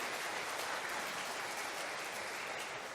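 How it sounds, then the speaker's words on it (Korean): A church congregation applauds the choir after a worship song, a steady, even wash of many hands clapping at a moderate distance, sustained without breaks and fairly faint. "우리 귀한 찬양해 주신 찬양대에게 한번 큰 감사의 박수 한번 드리겠습니다."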